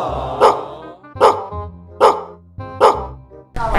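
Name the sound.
dogs barking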